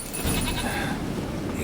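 Short bleat of a goat in The Witcher 3 over steady game background noise, one brief nasal call close by.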